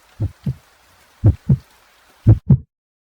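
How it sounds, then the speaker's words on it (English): Heartbeat sound effect, three clear lub-dub pairs of deep thumps spaced about a second apart, loud and isolated against silence. "my heart beating so fast?"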